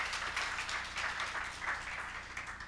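A seminar audience at KAIST's 2018 tech transfer day claps steadily to welcome a professor to the stage. The applause is soft, distant and continuous, with no talking over it.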